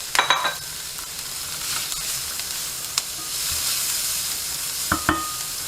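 Onion searing in oil in a hot pan over high heat gives a steady sizzle with a few stirring scrapes near the start and around five seconds, with no talking.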